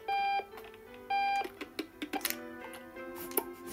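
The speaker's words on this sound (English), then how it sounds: "Can we start by turning off the stupid alarm" In-game alarm from Octodad: two sustained electronic beeps in a repeating pattern, followed by scattered clicks and clattering game sounds, moderately loud with no talking.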